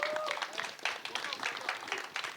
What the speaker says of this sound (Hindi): एक बार सारे कास्ट के लिए बहुत सारी तालियां होनी चाहिए प्लीज